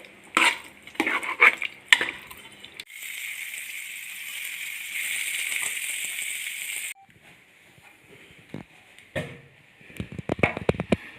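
Tempering for Kerala-style puzhukku sizzles in a hot pan for several seconds as a steady loud hiss, framed by clattering stirring and utensil knocks before and after.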